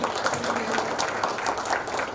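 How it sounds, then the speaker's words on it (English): Audience applause closing a tech conference session on AI model customization, a dense, steady wash of many hands clapping together, loud and sustained throughout without a break. "a big round of applause for our speaker"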